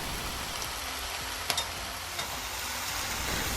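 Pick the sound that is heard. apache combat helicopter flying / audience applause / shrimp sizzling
shrimp sizzling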